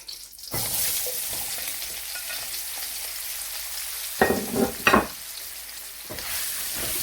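Onions stir-frying in a salted pan for a beef and vegetable stir-fry, a steady broadband sizzle with a few louder scraping stirs near the end, no voices.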